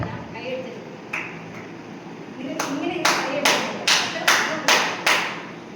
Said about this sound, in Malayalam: ആ കുട്ടിക്ക് ഇങ്ങനെ ഒരു ബർത്ത്ഡേ ആഘോഷം എല്ലാവരും കൈയടിക്കണം